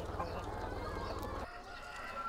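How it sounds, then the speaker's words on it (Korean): Free-range farm chickens cluck and a rooster crows, fairly close and moderate in volume, with the fowl sounds busiest in the first half before easing into quieter clucking. "자연에서 닭을 키우고 유기농 유정란을 생산하는 최정수 씨."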